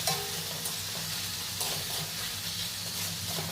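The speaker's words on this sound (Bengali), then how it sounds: "টমেটো কুচি দেওয়ার পর আরও কিছুক্ষণ কষিয়ে নিচ্ছে" Chopped tomato with turmeric, chilli powder, coriander powder and salt sautéing in a pan at home, a continuous soft sizzle and hiss with light stirring scrapes, steady and close with no talking.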